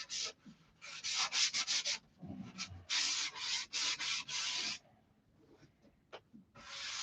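A wood finish is hand-sanded with 400 grit sandpaper on a block: bursts of quick back-and-forth rubbing strokes, close and crisp, broken by short pauses, with no talking.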